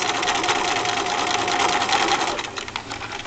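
A sewing machine stitches a miniature-scale elastic-waisted skirt, running in one steady, close whir for the whole stretch and easing slightly near the end.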